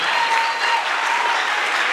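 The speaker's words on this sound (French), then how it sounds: "On applaudit, s'il vous plaît." An audience claps loudly and steadily in a hall at the final of a French debating competition, applauding the winners of a debate without pause.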